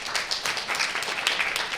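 Audience applause at a live personality-type podcast recording in Gettysburg, Pennsylvania, a brief steady patter of many hands clapping together in a room.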